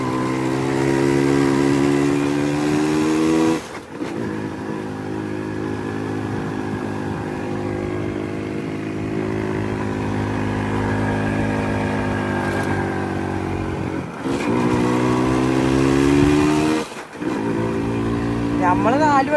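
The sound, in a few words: motorcycles riding: two Yamaha RX, a Max and a Pulsar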